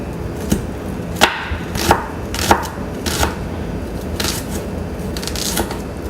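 A shallot being chopped with a knife on a board for a dish of baked Gulf oysters and shrimp with garlic and lemon butter: a few sharp, close knocks, then a quicker run of lighter taps, with no talking.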